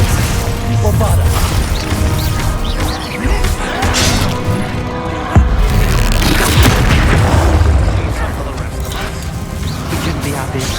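Bombarda blasting spells explode in a Hogwarts Legacy final boss fight against trolls, with loud repeated booms and crashes over dense, continuous battle noise and voices.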